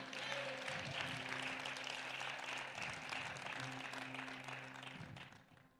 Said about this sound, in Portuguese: aplauda o Senhor neste momento